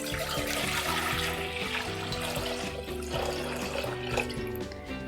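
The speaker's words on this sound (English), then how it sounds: "So I'm just pouring water in it." Water is poured into an Instant Pot LUX Mini for a water test, a steady splashing stream running for several seconds under background music.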